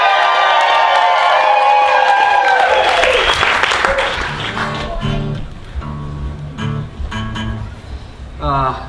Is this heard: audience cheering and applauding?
yes